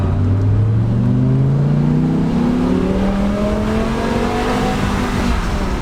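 A BMW M6 with a V10 engine revs hard, its pitch climbing in rising sweeps through the gears, loud and continuous from inside the car with a window open, no talk.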